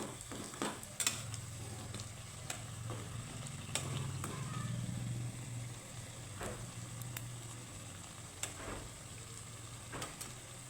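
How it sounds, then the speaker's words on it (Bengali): Potato snacks fry in oil with a faint, continuous sizzle, close but quiet, punctuated by scattered light clicks and taps of a utensil. "এটা একটু বাকি আছে আর একটু ভেজে নেব"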